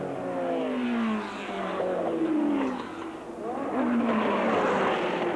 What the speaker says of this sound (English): The pace car pulls off, the race is on, and it's 2 Jaguars side by side over the brow and down to Paddock Bend